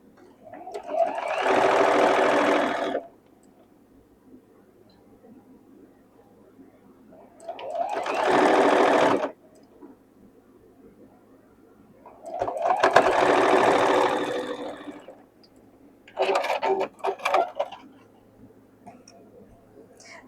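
A sewing machine stitches quilt block seams in four separate bursts of a few seconds each, loud and close, with quiet pauses between runs.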